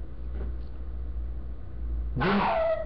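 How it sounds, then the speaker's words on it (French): A dog indoors gives a single loud, sharp bark near the end after a stretch of low background hum, with a faint earlier whimper. "Excusez-moi, le chien a aboyé."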